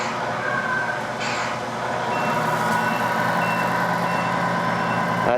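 A Tamiya Knight Hauler RC truck with a replaced motor runs in second gear, giving a steady close electric whine with a high tonal drone throughout and no talking.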